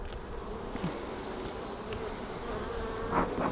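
Honeybees buzz at a populated hive colony in spring, a dense, steady drone close by with a few louder individual bees passing near toward the end.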